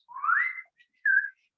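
A person imitates a dolphin whistle with their mouth: a rising whistled sweep followed by a shorter steady whistle, close and clear with no talk.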